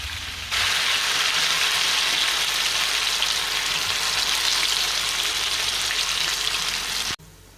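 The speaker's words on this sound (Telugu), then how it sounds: "ఇప్పుడు మొత్తం అన్నీ ఈ విధంగా వేసి ఫ్రై అయితే చేసుకోవాలి" Cauliflower pakoda frying in hot oil over a medium flame, a loud, steady, close sizzle that begins abruptly and runs without a break before cutting off near the end, with no voices.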